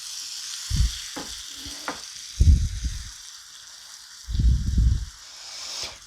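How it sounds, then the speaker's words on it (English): Pears being stirred into melted butter and brown sugar in a pan, giving a few short bursts of soft sizzling and scraping with quiet gaps between them. "We're just going to stir this around a little bit, and I'm going to go ahead and toss my pears in here too."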